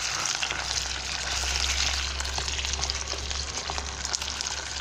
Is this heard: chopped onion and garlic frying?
yes